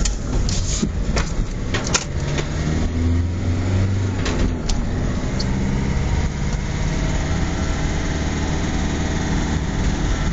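A Mercedes Vito van engine drones steadily while driving in third gear, a continuous mid-level hum with road rumble and occasional rattles inside the cab.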